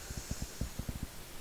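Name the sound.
dog snoring in the background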